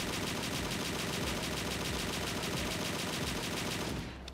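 Dense, continuous automatic gunfire shooting and destroying crystals in the Project Brutality video game, a loud, rapid, unbroken barrage lasting the whole four seconds with heavy low-end rumble.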